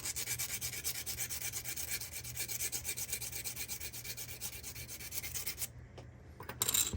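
Sandpaper rubbing steadily against a wooden piece being trimmed to fit on a truck project, a continuous close scratchy rasp for several seconds that stops abruptly near the end.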